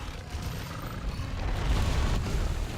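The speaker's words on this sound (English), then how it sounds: "Stupid explosions." A deep, rumbling explosion in the video game Monster Hunter: World swells and roars for a few seconds, a heavy boom with a lingering low blast.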